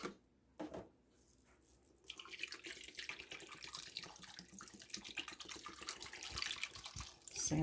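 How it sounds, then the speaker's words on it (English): Bottled water poured into a pot of freshly harvested peanuts with salt and chicken broth: after a brief quiet start, a steady, close splashing and trickling stream runs for several seconds. "now I'm just going to try to get these covered up with some bottled water"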